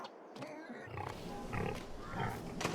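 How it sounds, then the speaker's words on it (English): Baby pigs in the video game Farming Simulator 22 give short, rough grunts and snorts in quick succession, fairly close and alone without talk. "Now we have baby pigs."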